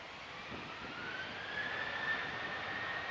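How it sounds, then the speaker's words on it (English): Jet2 Boeing 737 taking off from Manchester Airport, bound for Larnaca: a steady jet roar that slowly builds in loudness, with a rising engine whine running through it and no voices. "So Jet 2, of course, heading out to Larnaca. It's a Boeing 737, this one."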